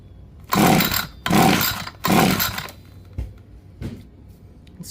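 An ECHO SRM-2620 string trimmer engine catches in three short loud bursts of about half a second each, then sputters out into a couple of faint pops and quiet.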